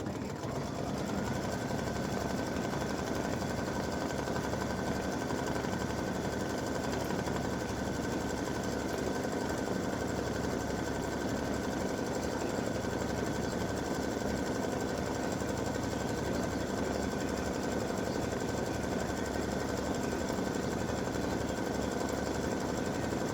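An embroidery machine stitches the dangling wattle of a turkey design in brown thread, giving an unbroken, even mechanical chatter that stays at the same level throughout.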